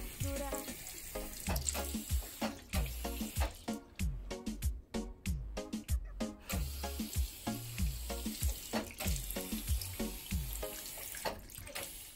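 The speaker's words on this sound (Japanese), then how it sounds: "しっかり流します。" Tap water runs steadily into a sink while hands are rinsed, with the stream breaking up in a rhythmic splashing pattern as the hands move under it, fairly close and without talk.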